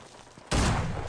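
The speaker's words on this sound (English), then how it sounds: "it's so hard to shoot with the shotgun" Shotgun fire in PUBG Mobile, a sudden loud blast halfway through after a quieter stretch, followed by a ringing, rumbling tail.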